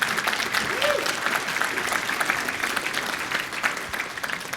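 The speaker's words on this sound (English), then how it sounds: "We can clap." An audience at a conference session on enterprise MQTT brokers for a virtual factory claps together, producing steady, dense applause that holds evenly for several seconds with faint voices underneath.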